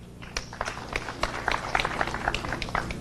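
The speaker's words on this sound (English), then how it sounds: "Let's have a hand clap for our AG." Audience at a Rotary Club evening event in Mbarara applauding with dense, steady hand clapping, individual claps crisp and overlapping, moderately loud and building slightly over the span.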